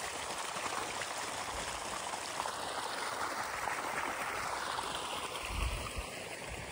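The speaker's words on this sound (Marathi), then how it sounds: "पाणी चाललंय पाटाने." Water running steadily along a field irrigation channel beside a bajra (pearl millet) crop, a continuous close babbling and trickling flow with no talk.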